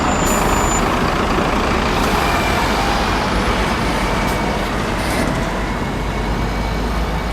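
A city bus, a hybrid Mercedes Citaro or Heuliez GX 137 type, pulls away in steady heavy engine roar with broadband road noise and a brief air-brake hiss near the start, loud and continuous throughout.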